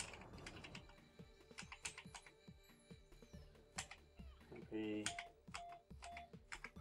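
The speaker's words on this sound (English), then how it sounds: "checking the caps locks, checking the shift keys, checking the numpad." Keys on an Amstrad CPC 464 home computer keyboard pressed one after another during testing, a run of clicky mechanical taps with brief pauses, close up, with some speech and a faint electronic tone partway.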